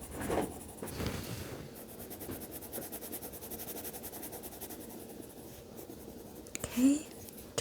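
Scratching of a tiny coloured pencil filling in a drawing of chips on paper, a soft continuous rasping with brief louder strokes, close and quiet, with faint breathy voice sounds in places.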